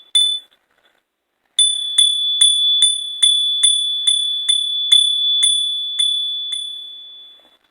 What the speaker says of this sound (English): I'm trying to get my bell.